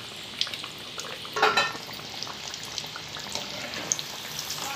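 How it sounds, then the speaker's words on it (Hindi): Chicken pieces fry KFC-style in hot oil, giving a steady close hiss and crackle with scattered pops and a brief louder burst of sizzling near the start. "चलिए हमारा चिकन KFC चिकन फ्राई हो गया।"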